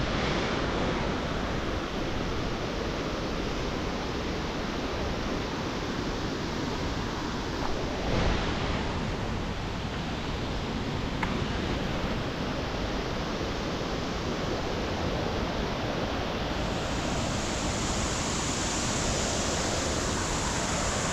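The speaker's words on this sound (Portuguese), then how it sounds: "A queda d'água mais bonita é essa aqui." The Honorato Ferreira waterfall roars as a loud, unbroken wash of falling water that stays constant throughout, with no voices.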